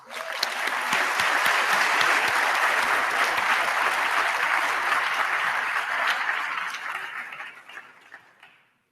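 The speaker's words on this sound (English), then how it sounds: "You should give them a round of applause." A large audience at a graduation ceremony bursts into dense, loud applause that holds steady for several seconds, then thins out and fades away near the end.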